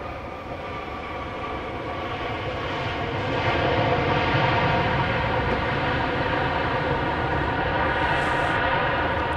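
A jet airliner roars on the runway at Dallas Love Field, a loud, sustained engine drone with a rising whine that swells after a few seconds and holds steady.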